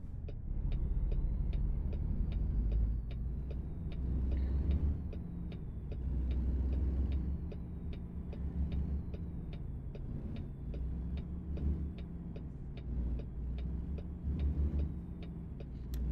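Interior cab engine drone of a truck in American Truck Simulator with a soundproofing mod, a steady low rumble holding throughout with faint rhythmic ticking above it and no speech.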